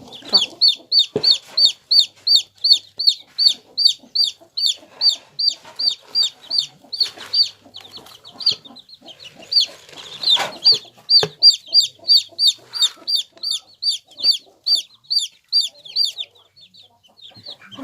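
Chickens clucking near a utility pole, a rapid, steady run of sharp repeated calls from close by, pausing briefly midway before resuming.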